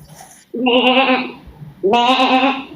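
A person imitates a goat's bleat with two loud, wavering vocal bleats close to the mic, separated by a short pause, during a lighthearted live stream.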